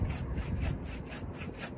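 A hoof saw cuts through a neglected pony's overgrown hooves in steady back-and-forth strokes, rough and rasping, close up with a regular rhythm of about four strokes.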